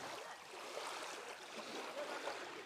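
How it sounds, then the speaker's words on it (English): Running water flows steadily and faintly in the background, a soft continuous hiss and trickle with no voices over it. "is that water too loud or is it okay?"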